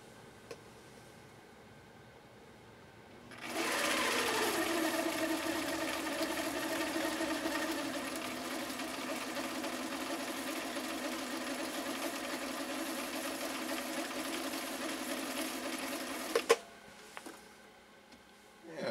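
Viking 6370 sewing machine running steadily through a shirring stitch, a continuous close mechanical whir lasting about thirteen seconds before stopping, with brief clicks afterward.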